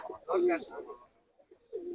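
A Lalbag pigeon coos once, low and close, followed by a softer second coo after a brief pause, with faint voices in the background.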